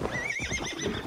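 Horse in Assassin's Creed Valhalla giving a high, wavering neigh that rises and trembles over a bed of hoofbeats and game ambience, loud and close in a brief burst.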